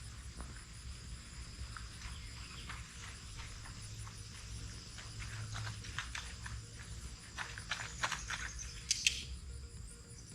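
A horse's hooves clop faintly and irregularly on the ground while it is worked, growing a bit busier toward the end, with a soft outdoor hum of insects behind.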